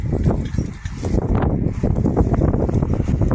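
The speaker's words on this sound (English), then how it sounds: "It's a bit windy day." Steady wind rushes and buffets across the microphone, a continuous low roar with gusty fluctuations and no voices.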